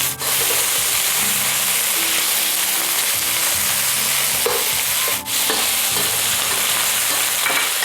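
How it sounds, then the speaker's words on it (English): Marinated pork and chicken stir-fried over high heat for Malaysian Hokkien mee, giving a steady, loud sizzle with continuous scraping and stirring, briefly interrupted by a couple of sharper knocks. "Stir and slightly brown the meat for about a minute."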